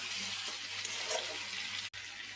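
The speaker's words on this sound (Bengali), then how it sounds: "তেলের মধ্যে চিকেনটা তো দিয়ে দিয়েছিলাম, আর চিকেনটা ভাজতে ভাজতে একটু তেল বেরিয়ে এসছে।" Chicken sizzles steadily in hot oil with tomatoes in a pan, a close, even frying hiss with a brief dropout near the end and no voices.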